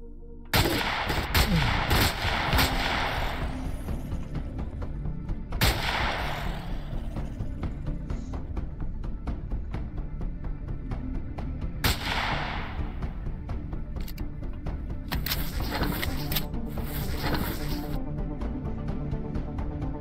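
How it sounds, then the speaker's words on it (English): Rocket launcher blasts ring out in the video game Empyrion Galactic Survival, several loud booming shots with long echoing tails spaced across the stretch, with no voices over them. "I've got rocket launcher, so got the rocket launcher."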